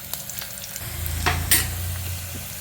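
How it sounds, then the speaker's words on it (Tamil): Curry leaves sizzle and crackle in hot oil nearby while tempering for a turtle bean curry, a short burst of spattering with faint stirring underneath. "இந்த கறி உடகம் போட்டு தாளிக்கிறேன் நான்"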